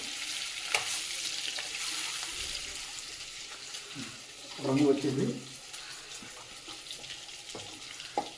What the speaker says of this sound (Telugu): ఫస్ట్ ఇలా ఫ్రై చేసుకోండి కొంచెం రంగు మారే వరకు